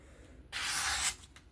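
A Kizer Original 2 sheepsfoot knife with a hollow-ground blade is stropped in one close, smooth rubbing stroke of about half a second, followed by a faint brief scrape.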